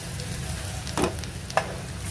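Boiled potatoes go into a pan of roasted onions for masala dosa filling, giving a soft steady sizzle with two short scraping stirs, quiet and close.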